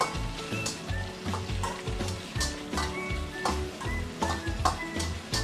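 Prawns and mee sua sizzle and crackle in hot oil in a pan, with steady frying hiss and repeated rhythmic scraping of stirring, close and fairly loud throughout, no talking.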